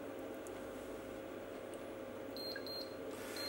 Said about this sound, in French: la première sonnerie est arrivée à son temps, on le voit, elle clignote et on l'entend très très bien